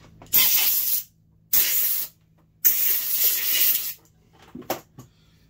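Three bursts of compressed air hiss onto a cold-blued Glock 19 pistol slide, each lasting about a second with short pauses between, followed by a faint shorter puff; close and loud, with no talking.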